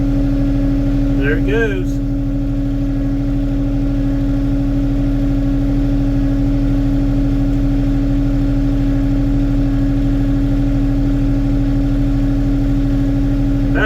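LS MT232 compact tractor engine holds a steady, loud drone that fills the whole stretch, briefly revved near the start, with someone talking over it early on.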